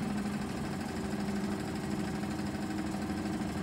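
Wilesco toy steam engine with reciprocating cylinders running at slow speed, a steady close mechanical chugging hum throughout, with no talking.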